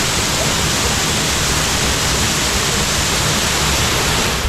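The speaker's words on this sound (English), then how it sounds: "It's not every day you walk a headphone through a waterfall" A waterfall roars loudly and steadily at close range, a constant, dense rush of falling water with no pauses.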